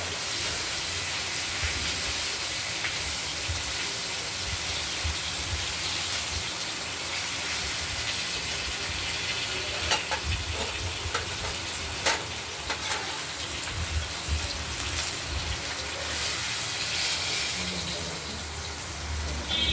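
Pieces of freshly cut katla fish fry in a covered pan, now uncovered, giving a continuous dense hiss with scattered crackles and pops as the pieces are flipped over.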